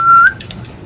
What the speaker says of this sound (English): What do you mean whistle noise?